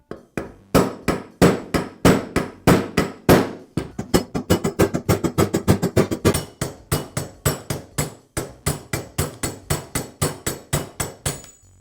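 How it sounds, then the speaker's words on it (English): A punch is struck repeatedly with a hammer to drive out a roll pin from a Bostitch pneumatic nailer during a rebuild, dozens of loud, sharp metallic blows in a steady, quickening rhythm, close and alone. "I'll use a punch to remove the roll pin that secures the shield and the piston"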